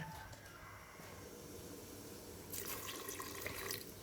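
Water is poured into a pot of Isan bamboo-shoot curry with red ant eggs, starting as a soft trickle and swelling into a louder splashing pour about halfway through.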